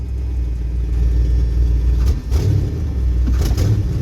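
An old Dodge Ramcharger engine fires up and settles into a low, rumbling idle, a steady deep drone close by with a couple of brief bumps as it catches.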